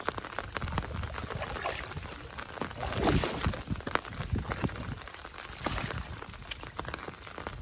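Heavy rain patters steadily over water during traditional prawn fishing in a village, a continuous hiss of drops with scattered close splashes and no talking.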